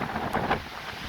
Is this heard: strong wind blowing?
yes